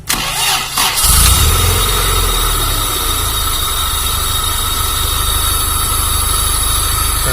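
A Honda Civic Genio engine cranks on the starter, catches within about a second and settles into a steady, loud idle close by.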